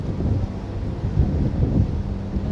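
Steady low wind rumble buffeting the microphone in the old souq in Sharjah, constant and fairly loud, with no talking.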